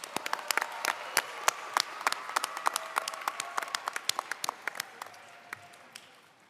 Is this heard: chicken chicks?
no